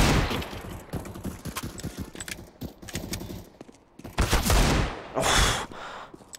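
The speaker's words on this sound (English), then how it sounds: "the UMP accuracy strikes" UMP submachine gun fire in a Counter-Strike esports match on the map Train, heard as dense, loud, rapid bursts of shots that come in clustered volleys with brief gaps between them.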